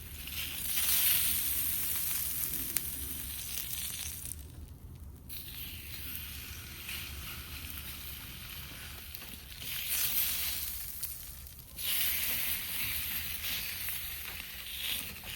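Prime ribeye steak sizzles on grill grates over a charcoal fire, giving a steady, fairly loud crackling hiss that swells and dips in bursts, with no voices present.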